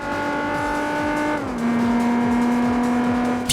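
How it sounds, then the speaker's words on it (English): A modded car engine in the racing game Gran Turismo 4 holds a steady, loud, harmonic drone that drops slightly in pitch midway, then settles into a sustained note, with no voices. "appreciate other things this mod had brought, such as the vastly improved sound this car produces"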